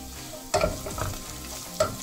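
Garlic frying in a pan for a country-style fish curry, with soft sizzling and a couple of sharp stirring scrapes close by.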